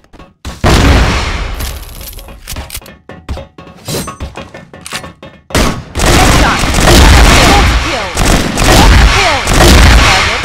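A grenade explosion and bursts of gunfire in the video game CrossFire, with sharp rapid shots and crackling blasts, followed by a long, dense, roaring stretch of explosions and fire.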